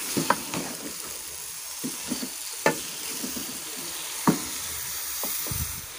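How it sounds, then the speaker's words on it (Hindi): Shimla gosht, mutton with capsicum, fries in a pan with a quiet steady sizzle while a spoon scrapes and stirs in irregular strokes, with a few sharp clicks against the pan. "अच्छे तरीके से मैं इसे मिक्स करूँगी इसमें।"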